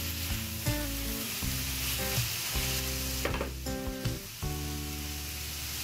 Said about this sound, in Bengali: তো এইভাবে আমি 3 থেকে 4 মিনিট ফ্রাই করে নিচ্ছি